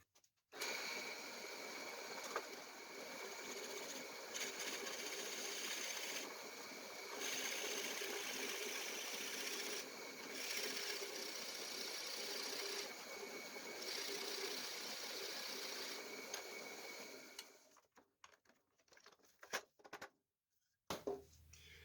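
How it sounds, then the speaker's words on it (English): A power drill whines steadily for a long stretch boring a hole in a wooden table, pausing briefly a few times, then stops, leaving scattered clicks and handling noises. "So we're ready to drill."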